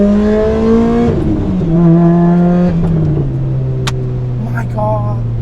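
A Lotus Exige S sports car engine revs hard on the drive, rising in pitch through the gears with quick shifts and a lower steady drone, loud and close from inside the cabin.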